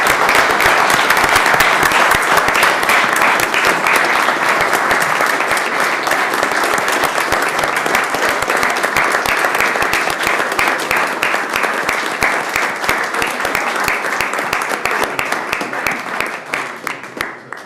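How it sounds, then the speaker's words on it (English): Sustained applause from an audience at a Board of Commissioners meeting honoring Mr. Weber, a veteran; steady, dense clapping fills the room for nearly eighteen seconds, tapering slightly at the end. "May we please have another round of applause for Mr."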